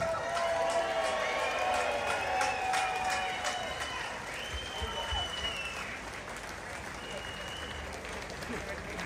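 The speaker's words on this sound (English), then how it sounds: "please give a massive, massive round of applause for Elizabeth Harper, please." Crowd applause at an outdoor London march rally against grooming gangs, a broad steady wash of clapping with some whistles and shouts over it, gradually thinning out.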